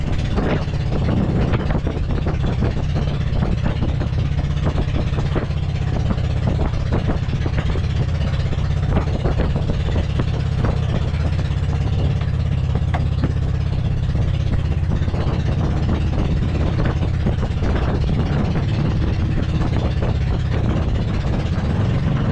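A boat's engine runs continuously with a loud, low, rumbling drone and steady throb for the whole stretch, with no other sounds standing out.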